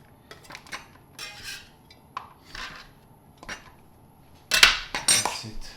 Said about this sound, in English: so let's put these diced jalapenos in a deli container.